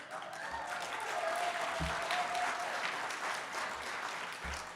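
Guests at a 50th birthday party clap in a warm, sustained round of applause that fills the room evenly for several seconds.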